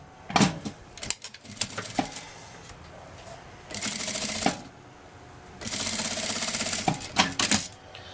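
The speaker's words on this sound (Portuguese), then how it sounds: "Agora eu passo a costura aqui na beiradinha." A sewing machine stitches along the edge of fabric for a hygiene pouch: two sustained whirring runs separated by pauses, with clicks and handling noises of the cloth and machine around them.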